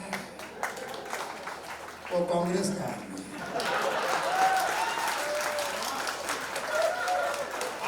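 An audience at a Sanitary Pad Bank anniversary celebration breaks into clapping, a dense spread of applause with scattered chuckles that builds after a short spoken line and continues loudly to the end.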